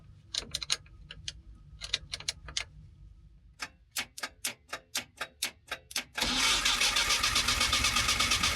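An abandoned police SWAT car is started: a quick series of starter clicks and cranking bursts, then the engine catches and settles into a loud, steady idle close by.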